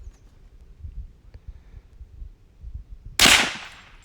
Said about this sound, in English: Are you shooting coffee mugs?